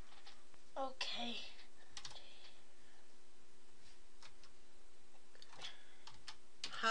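A computer keyboard is typed on in short scattered bursts of light clicks during a Minecraft game, with a child and an adult talking over it.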